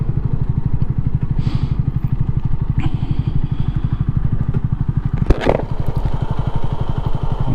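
A Honda CB250RS motorcycle engine idles steadily and close by with a rapid, even putter, joined by a brief scrape and clatter partway through.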